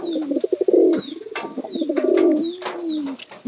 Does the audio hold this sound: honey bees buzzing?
no